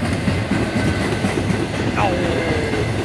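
Train passing by on the tracks in Walbridge, Ohio, a steady rumbling roll with faint rhythmic clatter and a brief high wheel squeal near the end.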